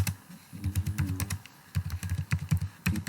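Typing on a computer keyboard while writing in Microsoft Word, close irregular key clicks in short bursts separated by brief pauses.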